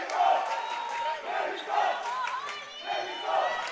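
Argentinian fans cheer and chant in rising, rhythmic bursts during a women's foam dodgeball match at the world championships against Mexico, a loud crowd roar swelling and falling in waves.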